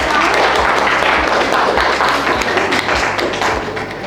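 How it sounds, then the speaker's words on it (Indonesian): Classroom group applause for a student team after a presentation at an Indonesian school, steady dense clapping with recurring soft low thumps, fading slightly near the end. "berikan tepuk tangan untuk kelompok"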